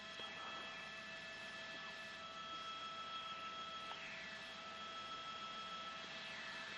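A news aircraft flies over a storage facility fire, giving a steady, loud engine drone and rushing roar that holds evenly throughout with no talk.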